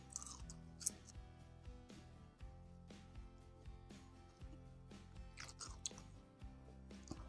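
Crispy fried cireng is bitten and chewed close to the mouth, with soft repeated crunches and squishy chewing at a low level over faint background music.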